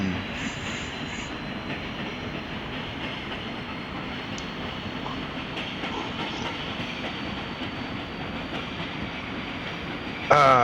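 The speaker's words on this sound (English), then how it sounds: "That train is moving next to us." Running rumble and steady rail noise of an R142 subway train on the 5 line in the OpenBVE train simulator game, a continuous drone throughout with a brief louder burst at the very end.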